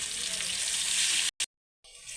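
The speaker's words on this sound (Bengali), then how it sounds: "পেঁয়াজটাকে একটু ভালো করে লাল লাল করে ভেজে নেব।" Chopped onions sizzle in hot oil in a wok, a loud steady close hiss that cuts out abruptly, then returns more quietly.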